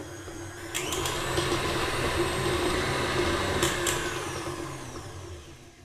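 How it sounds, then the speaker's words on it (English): An electric mixer on high speed creaming butter and sugar, a steady close whirring drone that holds for several seconds before easing off, with a couple of brief higher scraping touches along the way and no talking. "That is creaming the butter and the sugar together."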